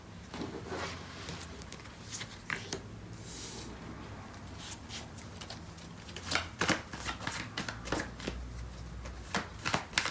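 A deck of tarot cards is shuffled by hand at close range, a quiet run of crisp riffling and flicking bursts that grows busier toward the end, with no speech over it.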